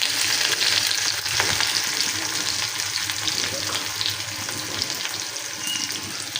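Garlic, dried chilies and onion sizzle and fry steadily in hot oil as a tempering for dal, a continuous close crackle with faint stirring throughout.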